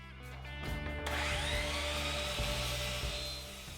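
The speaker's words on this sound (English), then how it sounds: "I like to use the miter saw to rough cut the parts" A miter saw spins up and rough-cuts birch plywood parts, a loud, close, high whine rising as the blade bites in and holding steady through the cut.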